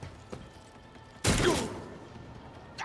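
A melta gun fires in Warhammer 40k Rogue Trader, a single loud, roaring blast with a hissing, searing burst lasting about half a second before fading, set among quieter game sounds.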